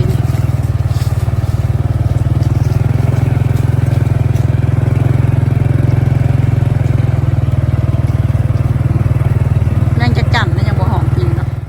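A motorcycle ride: a loud, steady, buzzing engine drone runs unbroken and close throughout, with a few faint clatters near the end.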